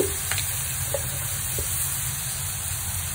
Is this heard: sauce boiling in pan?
yes